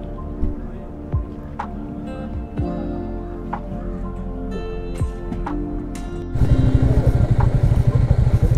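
A Royal Enfield Classic 350 motorcycle engine runs in a cold Sonamarg market setting, with a steady, throbbing idle that swells into a louder, rougher roar for the last couple of seconds.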